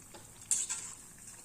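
Bonda batter frying in hot oil is stirred, giving a soft, quiet sizzle broken by a brief metallic clink and scrape of the utensil against the pan.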